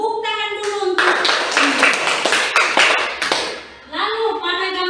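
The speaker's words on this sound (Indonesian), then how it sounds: "Tepuk tangan dulu untuk." A classroom of children clapping hands together in a fast burst of several seconds, set between stretches of children speaking.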